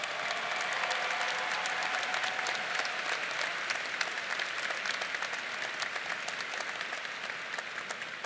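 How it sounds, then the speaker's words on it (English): A commencement audience at a spring university graduation ceremony applauds in a large round, a dense, steady wash of many hands clapping that holds for the whole stretch without a break. "How about we give them a large round of applause as well?"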